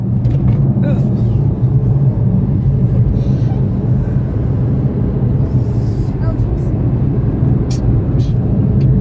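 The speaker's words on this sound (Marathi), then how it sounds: "सुसाट पळवून राहिले साहेब गाडी" A car is driven fast along a road, heard from inside as a loud, steady engine and tyre rumble that never lets up, with faint voices in the cabin.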